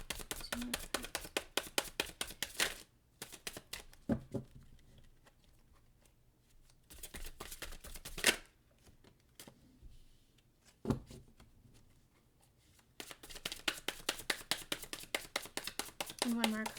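Tarot cards being shuffled in the hands, with bursts of rapid riffling flicks at the start and end and a few sharp taps as cards are drawn and laid down, close and fairly quiet, with a voice speaking in between.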